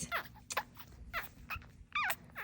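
Schnauzer puppies whimper and yip in short, high, repeated cries close by, several overlapping bursts with brief gaps over a low background hum.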